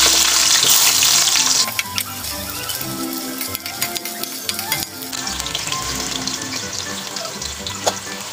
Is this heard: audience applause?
no